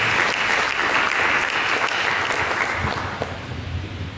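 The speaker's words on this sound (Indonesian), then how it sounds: "Mari kita berikan tepuk tangan." Church congregation applauding during a sermon, a loud continuous wash of clapping hands that holds steady and then eases slightly toward the end.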